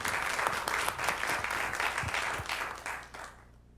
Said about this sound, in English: let's give them a round of applause and welcome